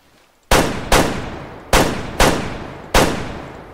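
Five heavy gunshots from an anti-aircraft UTV in the hunting game Way of the Hunter, spaced irregularly about half a second to a second apart, each a sharp loud blast with a long booming decay, no talk.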